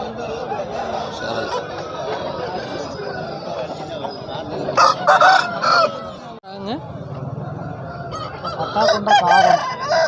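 Chickens cluck and a rooster crows amid a noisy crowd at the Kavundapadi rooster market, with bursts of loud squawking and people talking in the background.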